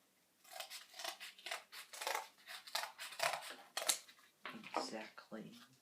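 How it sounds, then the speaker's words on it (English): Scissors snip through a piece of cardboard in a rapid series of close, crisp cuts with slight rustling, and talking is faintly mixed in. "get a piece of cardboard, and I'm gonna have to cut it"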